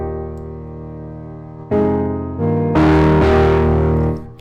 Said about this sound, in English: then we add some distortion. And this is the fun part about Camel Crusher